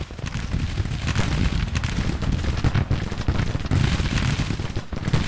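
Cannon and gunfire from the Grand Tactician: The Civil War strategy game, a dense, continuous roar of artillery booms and rattling musketry at steady loudness throughout.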